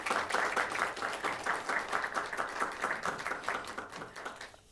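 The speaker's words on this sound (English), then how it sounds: "So round of applause." Rhythmic applause from attendees at a city council meeting honoring holiday decoration winners, moderately loud clapping in a steady pulsing pattern that fades at the end, with no talk over it.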